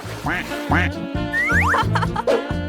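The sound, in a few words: duck quacking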